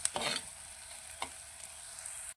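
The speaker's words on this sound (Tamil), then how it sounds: "கொஞ்சம் வெங்காயம் வந்து பொன்னிறம் ஆகிற மட்டும் கொஞ்சம் வதங்கி விடுவோம்" Onions sizzle quietly in a pan, with a steady faint frying hiss broken by a couple of scraping stirs.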